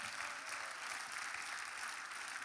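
A worship congregation applauds in a church, a steady wash of many hands clapping at a moderate distance, even and continuous throughout with no voices standing out.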